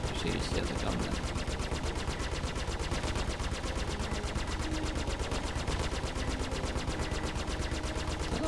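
Dense, continuous automatic gunfire from a Star Citizen Alpha 2.5 battle royale match, rapid rhythmic shots filling the whole stretch at a steady, loud level with a faint voice underneath.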